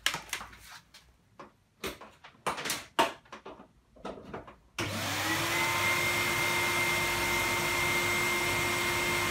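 A Henry vacuum cleaner starts after some close clicks and knocks, then runs with a steady, loud whirring drone and a constant motor whine that holds for several seconds.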